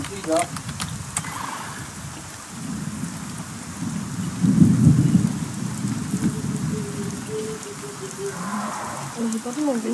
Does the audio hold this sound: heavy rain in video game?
yes